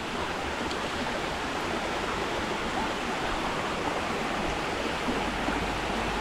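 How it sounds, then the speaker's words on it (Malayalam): A waterfall in Kerala heard from its lower section, producing a constant, dense roar of rushing water that fills the whole scene with no pauses. "ഇതാണ് വെള്ളച്ചാട്ടത്തിൻ്റെ മോൾ ഭാഗം കേട്ടോ"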